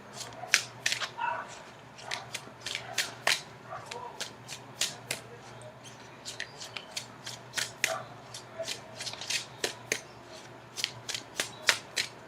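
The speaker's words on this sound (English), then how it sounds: "Okay, I'm going to cut the cards." Tarot cards are cut and shuffled during a reading, giving a quick run of sharp, crisp card snaps and flicks close by, spread irregularly across the whole stretch over a faint low hum.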